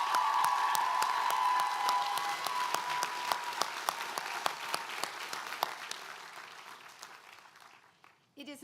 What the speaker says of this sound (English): Let's give them, Ishi and Elaine, another round of applause.